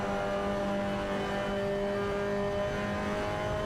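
An onboard race car engine from a sim racing game at Anglesey Coastal, the car tucked in a slipstream, drones loud and steady at a high, sustained pitch for the whole stretch, with no voices.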